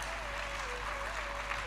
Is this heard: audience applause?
yes